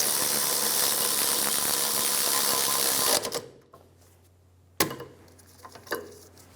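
Rear wheel hub bearing bolts on a 2003-2007 Infiniti G35 are snugged down with a tool, a steady loud mechanical whir for about three seconds, then stopping, followed by a few sharp metallic clanks and taps.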